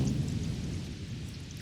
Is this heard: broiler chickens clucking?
no